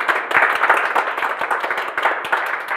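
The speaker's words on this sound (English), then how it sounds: "Another round of applause." Loud, close applause from an audience at a live arts show after a musical performance, a dense, lively patter of many hands clapping with quick irregular bursts throughout, and no voices on top.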